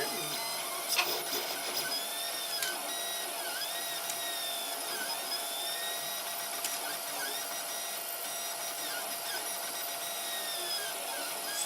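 A 3D printer running a print gives off a steady mechanical whir with stepper motors whining as they rise and fall and a few faint clicks, heard at moderate distance with no talking.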